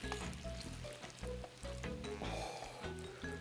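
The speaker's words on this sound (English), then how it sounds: "Why is it sizzling now?" Steady sizzling and bubbling of caramel in a hot pan, loud and close, with faint tonal clinks and a low hum running underneath.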